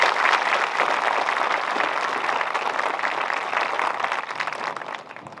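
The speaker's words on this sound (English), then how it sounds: "Give yourself a round of applause." A graduating class at a graduation ceremony breaks into dense, sustained applause, loud and steady for several seconds before tapering off slightly at the end.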